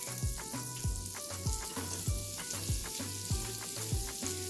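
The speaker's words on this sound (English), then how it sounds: "Once the butter is melted, we're going to add the onions and saute until light brown." Chopped onions sautéing in melted butter in a pan, a steady sizzle broken by repeated scraping and stirring strokes with a rhythmic knocking pattern, close and fairly loud with no voices.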